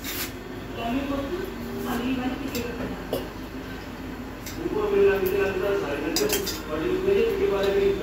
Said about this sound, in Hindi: अब हम इसमें थोड़ी सी दही डाल देंगे।